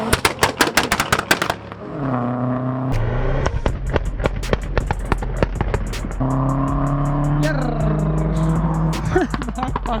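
A loud race car revs and passes close by, its engine note shifting, while sharp anti-lag popping bangs crackle in rapid bursts; people's voices are heard faintly.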